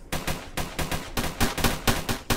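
Gunfire in the Roblox game Armored Patrol: a rapid string of loud, close shots in quick bursts, about a dozen sharp cracks with short gaps.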